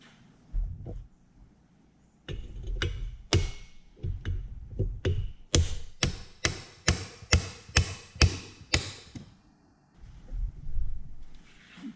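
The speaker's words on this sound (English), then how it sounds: "Now I have to drive this tube down to get this nut plate out of there." A tube is hammered down inside the tilt telescopic steering column of a 1971 Corvette: a run of sharp metallic blows, scattered at first, then a steady rapid series of a dozen or so strikes before it trails off.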